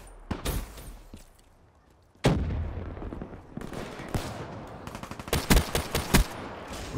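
M1 Garand rifle gunfire in a video game, scattered sharp shots and bursts over game effects, loud and close with quieter stretches between.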